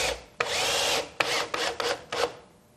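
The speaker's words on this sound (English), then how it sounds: "You're going to drill a screw up from the bottom and on both of those." A power drill drives a screw up through wood from underneath while building stage scenery: one long whirring burst followed by four shorter, close bursts.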